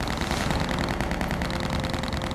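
Sustained, loud automatic gunfire, a dense unbroken rattle of rapid shots, as heavily armed attackers spray a shop with machine-gun fire in a documentary reenactment.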